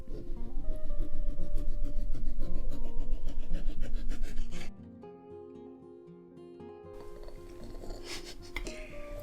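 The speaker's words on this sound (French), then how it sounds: "Je vais couper la peau mais je vais garder que le zeste en fait, je vais pas prendre la partie blanche." A kitchen knife pares the peel from lemons, keeping only the zest, with steady rasping cuts close by, then a quieter pause before the scraping resumes.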